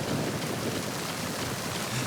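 Steady rain in the video game Metal Gear Solid 2 on PS2, a dense continuous wash of falling water and drops with a low rumble underneath, unbroken for a couple of seconds with no voices.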